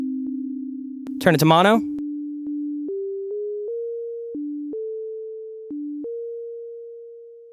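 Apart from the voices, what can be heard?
Serum synth sine wave bell sound with unison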